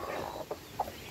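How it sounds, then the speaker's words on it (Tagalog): Native hens and chicks on a farm clucking, with two short distinct clucks standing out over a steady bed of soft chick peeping and farmyard noise, fairly close and moderately quiet. "So ilang inahin na yung nakapagpisa dito kasi nga sobrang dami nating sisiw."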